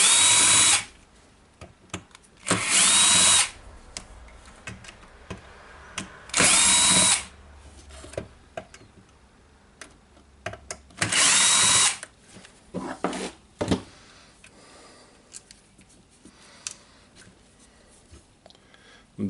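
Cordless power driver backing out motor housing screws on a Milwaukee M18 brushless circular saw, four loud whirring bursts about a second long each, separated by quieter handling clatter of small parts.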